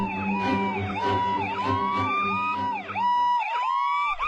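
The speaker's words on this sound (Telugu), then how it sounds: "టైంకి అంబులెన్స్ వస్తుంది" An arriving ambulance's siren wails in close, loud repeating up-and-down sweeps over a low engine drone, continuing steadily before briefly thinning at the end.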